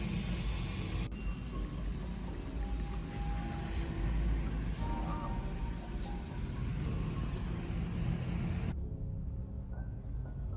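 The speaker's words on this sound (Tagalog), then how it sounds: "Dami sasakyan." Busy street traffic with many cars and larger vehicles rumbling past in a continuous, fairly loud wash that cuts off abruptly near the end.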